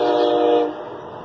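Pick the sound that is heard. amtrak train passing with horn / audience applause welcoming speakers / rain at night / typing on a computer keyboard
amtrak train passing with horn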